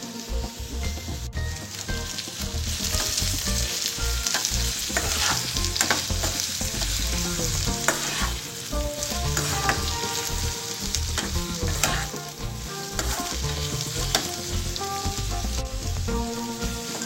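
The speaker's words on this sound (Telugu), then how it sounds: "దొండకాయ ముక్కలు ఫ్రై అయిన తర్వాత ఉప్పు వేసుకోవాలి." Ivy gourd (dondakaya) pieces frying in a pan for a lemon curry, giving a continuous crackling sizzle with frequent stirring clicks and scrapes, loud and close throughout.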